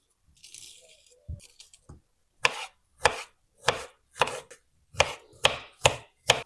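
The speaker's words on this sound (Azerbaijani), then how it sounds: "İç hissələrini çıxarıb xırda-xırda doğrayaq" A knife dices peeled, cored pears into small pieces on a cutting board for a pear dessert. A few light handling taps come first, then about eight crisp, evenly spaced chops in a steady rhythm, close and clear with no talking.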